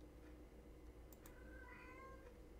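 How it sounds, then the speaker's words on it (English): A domestic cat in heat meows a few times in the background, faint and drawn out over a low steady hum, with no talking. "Excuse my cat in the background."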